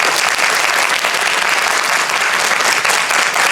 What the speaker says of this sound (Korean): 격려의 박수를 보내주면서 마무리하도록 하겠습니다